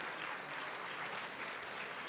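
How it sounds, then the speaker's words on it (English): An audience at an Asia Society Southern California annual gala dinner claps in a steady, dense wash of applause that holds at an even level throughout. "Let's give them a round of applause."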